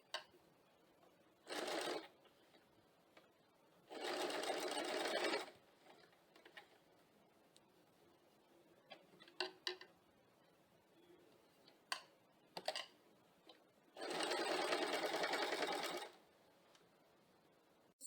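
Sewing machine stitching piping fabric for a blouse, running in two short bursts and two longer runs of steady mechanical whirring, separated by quiet pauses with light handling clicks.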